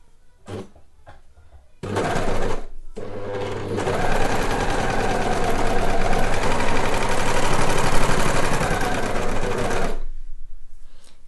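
An overlocker stitches a jersey fabric seam with a 1.5 cm seam allowance, running as a steady, close, loud mechanical whir for about eight seconds after a few short starts.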